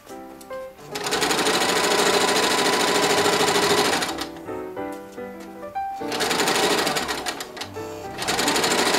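A sewing machine stitches a teddy bear hospital gown, running in long loud whirring bursts of rapid needle clatter with a brief pause near the middle, close and continuous.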